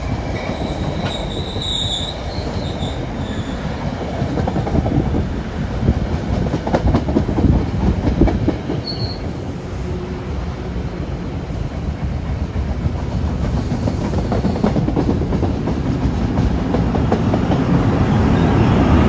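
A train passes on the Northeast Corridor main line, a loud, continuous rolling rumble with squealing wheels and clattering that holds for about nineteen seconds without any voices.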